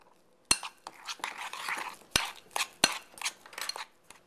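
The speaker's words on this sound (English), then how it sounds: "Stir that up well" A metal spoon clinks and scrapes against a bowl while stirring deviled egg filling with sugar, a series of sharp taps and scraping strokes at close range.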